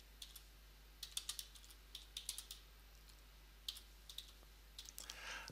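Keys tapped on a computer keyboard while a file name is entered, quiet scattered clicks in short bursts of a few strokes each, alone against a faint low hum.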